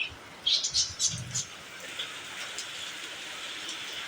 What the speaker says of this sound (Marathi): आणि आता तो फायनली गा पाऊस पडतो आहे